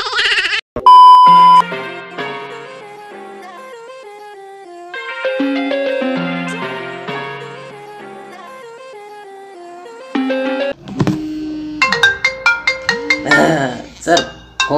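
A phone ringtone plays as a loud electronic melody of bright beeping notes, running in phrases with short gaps and a busier burst at the end.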